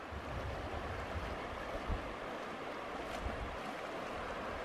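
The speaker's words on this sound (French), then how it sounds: "la première opération, c'est traverser une belle rivière." Steady, full rushing of the Macarola river, a continuous broad wash of sound with no voices, close and fairly loud throughout.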